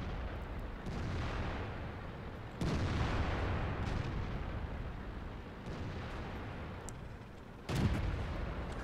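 Tank shells striking armor in World of Tanks, with a heavy close boom followed by a rumbling decay and a second loud impact several seconds later, all over continuous battle rumble.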